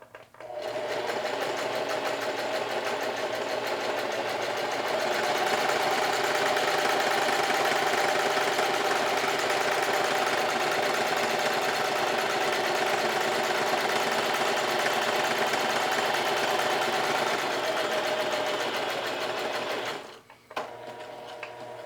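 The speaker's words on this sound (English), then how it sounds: "I'm going to zigzag on the other three sides on the edge stitching" A sewing machine runs a zigzag edge stitch along an apron, humming at a steady loud rattle for about twenty seconds before stopping abruptly.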